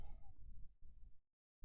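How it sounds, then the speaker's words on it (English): A cat whines with a drawn-out, wavering cry at the start. Low indoor rumble sits under it, and the sound cuts off into near silence before a short burst returns at the end. "Hopefully you can't hear that cat whining."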